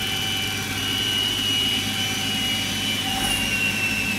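A JT8D turbine jet engine dry motoring on the ground, spun without ignition: a steady, unbroken whirring drone with a high thin whine running through it, close and constant for the whole stretch with no talk.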